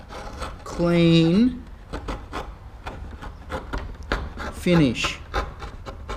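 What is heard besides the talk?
chisel paring timber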